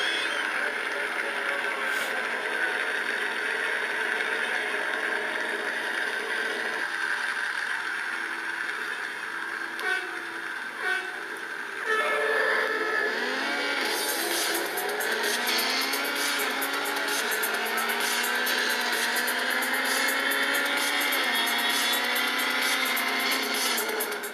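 Racing-game engine noise from Real Racing HD plays through iPad speakers: a steady, close car engine drone with rising revs and gear shifts, brightening into a harsher, busier roar partway through, continuous and without talk.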